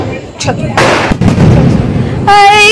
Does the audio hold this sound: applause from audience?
no